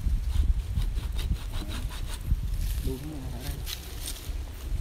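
Rhythmic rasping strokes of a hand saw cutting through wood, repeated steadily, with people talking over it.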